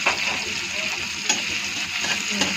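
Nigella seeds (kalo jeera) frying in hot oil, a soft continuous sizzle with occasional light stirring clinks, close and steady at moderate loudness, without talking.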